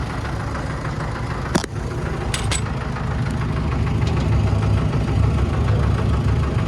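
A tractor engine runs steadily at idle out in the field during brush cutting, a close, continuous low rumble with a faint knock and a few brief clicks near the start.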